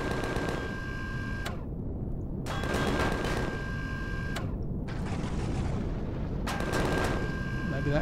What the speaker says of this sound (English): If we shoot this window out, and then just drop down a bit,